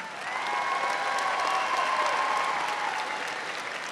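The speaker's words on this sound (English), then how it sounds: "Let's give this group one last round of applause." A large audience at a high school graduation ceremony claps steadily, a dense, sustained wash of applause that swells quickly and holds evenly for several seconds, with faint cheering mixed in.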